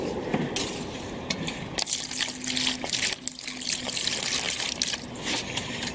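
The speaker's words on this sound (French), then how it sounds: "Vous rajoutez de l'eau." Water poured from a can into a bucket of paint: a continuous trickling, splashing pour close by, shifting in texture as the bucket fills, with faint knocks.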